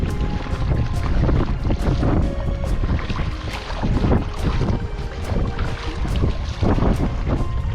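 Kayak paddling on open water on the way to a lighthouse, with steady broadband wind buffeting and water wash throughout and faint, regularly repeating paddle strokes and splashes beneath it.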